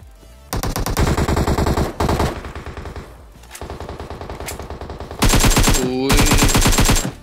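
M16A4 rifle fire in PUBG Mobile, loud rapid bursts of automatic shots in several separate volleys with short pauses between.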